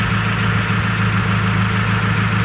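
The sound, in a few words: fuel injector clicking on idling truck engine, heard via screwdriver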